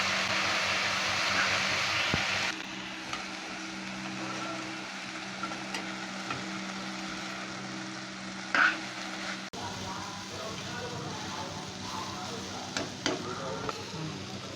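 Water spinach (kalmi shak) with salt and green chillies cooks in a pan, giving a steady close sizzle with occasional sharp knocks from stirring and no talk.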